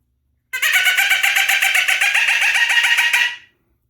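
A turkey hunting call, worked back and forth, imitates a pileated woodpecker with a rapid run of about twenty loud, bright, evenly spaced squawking notes lasting roughly three seconds, then it stops abruptly.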